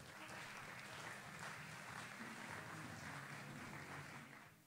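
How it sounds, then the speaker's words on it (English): A faint, distant wash of steady applause fills the room as a headline speaker takes the stage at an event, continuous and even with no distinct individual claps. "Let's give Mr. Robby Slaughter a big round of applause as he takes the stage"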